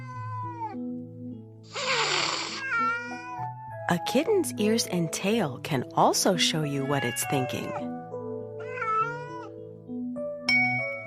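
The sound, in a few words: kitten meowing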